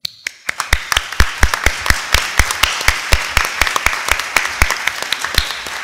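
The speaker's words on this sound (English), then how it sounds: "I hope we give them a special applause at this opening ceremony." Audience applause at the opening ceremony of a dementia conference, heard as a steady run of sharp, close claps from a crowd for about six seconds, with no talk over it.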